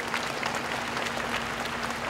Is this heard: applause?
yes